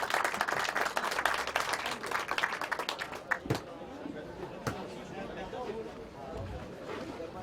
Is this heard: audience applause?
yes